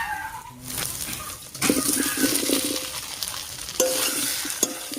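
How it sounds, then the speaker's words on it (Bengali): Fried eggs and potatoes go into hot spice masala in a pan, giving a steady sizzle with scraping, stirring clatters and a few sharp metallic knocks, close and moderately loud. "এবার এর মধ্যে ভেজে রাখা ডিম আর আলুটা দিয়ে দিচ্ছি।"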